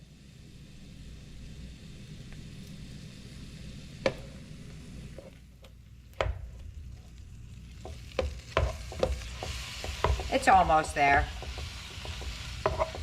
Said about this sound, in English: let me get to browning up the meat